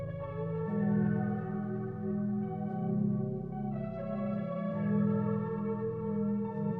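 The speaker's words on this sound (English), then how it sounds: "This main melody ended up adding a little bit bounce to it with the delay" A looping electronic music bed with a bouncy, delay-echoed main melody layered over a sustained background melody and a steady low bass, smooth and continuous at moderate volume.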